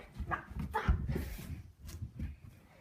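A dog gives short barks and whimpers in a few quick, faint bursts close by, with little else around.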